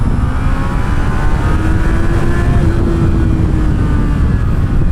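A Honda CB650R motorcycle engine revs high, a loud, close, continuous tone holding near the top of its range, with a slight rise in pitch mixed with rushing wind.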